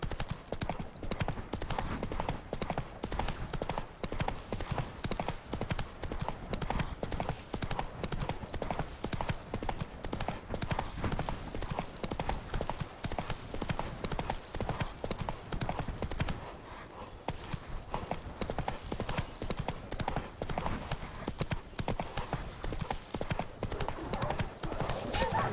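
Roach, a horse in The Witcher 3, gallops with steady rapid hoofbeats clip-clopping throughout, close and continuous, with a brief whinny and faint game ambience beneath.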